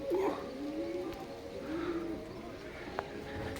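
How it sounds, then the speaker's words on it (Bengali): Pigeons give a few soft, low coos over a steady outdoor hiss, with a faint sharp click near the end. No wingbeats stand out. "বন্ধু কিছু কবুতর উড়িয়েছি"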